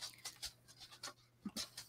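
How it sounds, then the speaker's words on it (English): Several dogs bark and pant faintly in the distance, short scattered bursts at irregular intervals around a snow-covered house. "I don't know why they're barking"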